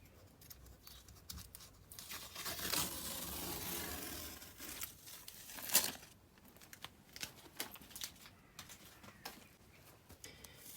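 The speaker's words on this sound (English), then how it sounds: "We're just going to very carefully take off the top of the masking tape." Masking tape is peeled slowly off the rim of a freshly resurfaced kitchen sink, giving soft crinkling and tearing rasps that swell for a few seconds and then stop, followed by scattered light crackles.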